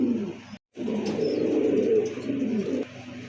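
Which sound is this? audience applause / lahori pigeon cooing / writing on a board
lahori pigeon cooing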